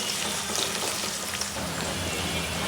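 Onion sizzling in a hot pan of oil as the base for okra bhaji, a steady, dense crackling hiss close up that holds evenly throughout with no talking.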